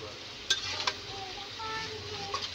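Snake gourd and egg are stirred in a frying pan over a soft, quiet sizzle, with a couple of sharp utensil scrapes and clinks.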